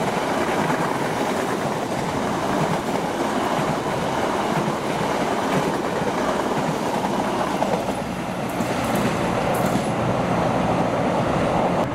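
An Argo Bromo Anggrek train with accordion-style gangway connections rolls past at Bekasi Timur, a loud, steady broadband rumble of wheels and carriages with faint clatter, sustained throughout without speech.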